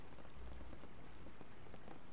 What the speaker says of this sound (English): Pitter-patter of the rain.